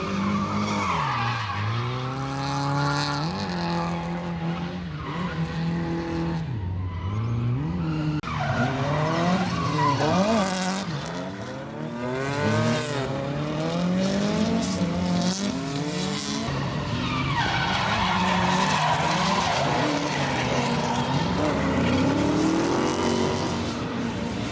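Drift cars skidding at a PARC Drift event, tires squealing in long sweeping howls over roaring engines that rise and fall as cars slide past, loud and continuous across the whole stretch.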